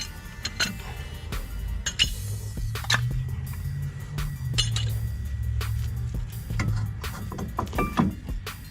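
A worn brake pad is pulled from the front caliper of a 1993-96 Cadillac Fleetwood, giving scattered light metallic clinks and taps that are fairly quiet and close.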